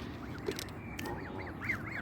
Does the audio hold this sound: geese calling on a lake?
yes